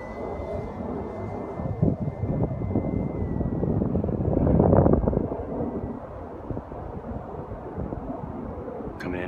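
An FMS P-40B Flying Tiger RC model airplane, 980mm high speed edition, drones past on approach, its motor rising to a louder whoosh mid-pass then fading, with wind rumble on the microphone.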